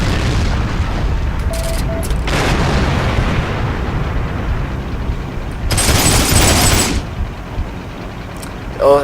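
Machine gun fire from a German Panzer I Ausf. A tank in the game Heroes & Generals. Loud, sustained rattling bursts mix with heavy booms and a low rumble, and a bright, harsher volley flares up near the end.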